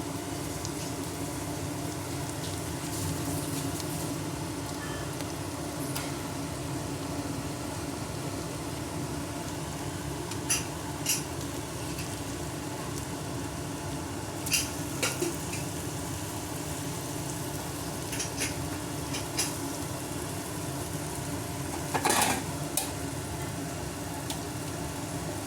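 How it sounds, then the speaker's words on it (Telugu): Fish fry in oil in a pan, a steady close sizzle and crackle running throughout with a few sharper pops and clinks, no talking. "చూసారు కదా, బాగా ఫ్రై అవుతుంది."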